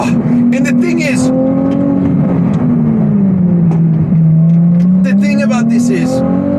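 A Ferrari sports car engine accelerating hard, a loud sustained roar that rises and dips in pitch as it climbs through revs, heard close up from start to finish with excited voices breaking in over it.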